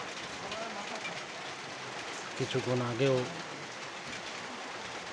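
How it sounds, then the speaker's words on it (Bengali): Rain drumming steadily on a tin roof during a storm, a continuous hiss under brief talk, with a short tonal sound partway through. "টিনের শব্দ শব্দ দেখেই বুঝতে পারছেন যে আসলে কি ধরনের ঝড় বৃষ্টি শুরু হয়েছে"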